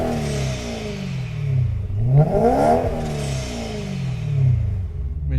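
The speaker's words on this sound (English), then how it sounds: "the number one thing that I love about this car being supercharged is the exotic sound" Supercharged 650 hp BMW E92 M3 engine revving hard through the gears, pitch sweeping up and falling back repeatedly, loud and close, with a rattly whine riding over the exhaust.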